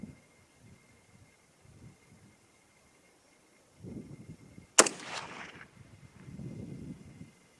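.243 Winchester rifle firing a 90 grain TGK load over IMR 4350: one sharp, loud shot at close range, followed by a short rumbling echo across open ground, with quiet outdoor background before and after.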